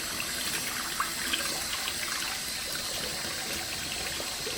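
Hot water runs steadily from a tap into a basin, a soft continuous splashing hiss at moderate level, alone without talk.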